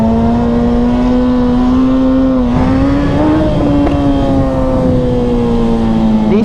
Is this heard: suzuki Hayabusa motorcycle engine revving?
yes